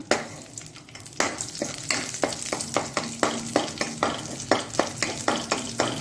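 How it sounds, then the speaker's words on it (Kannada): Cashew nuts and raisins fry in a pan with continuous sizzling, broken up by repeated rhythmic scraping strokes of a spoon stirring, close and fairly loud, with no talking. "ದ್ರಾಕ್ಷಿಕ ಕಾಯ್ತಾ ಬಂತು ನೋಡಿ"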